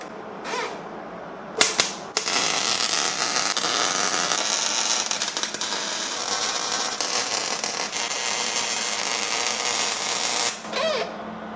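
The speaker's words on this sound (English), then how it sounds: "So I need to weld that up so it won't move." Welding on a battery relocation bracket for an LS-swapped UTV, a continuous loud crackling, sizzling arc lasting several seconds, starting after a couple of sharp knocks and cutting off near the end.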